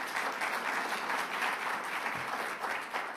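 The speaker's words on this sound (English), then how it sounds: "So let's give him a round of applause." Steady audience applause at a New York and New Jersey governors' event, a sustained wash of many hands clapping at moderate volume throughout.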